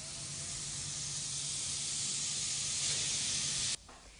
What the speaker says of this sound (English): that's the sound of a gas line break after a man crashed into a gas meter at a Northside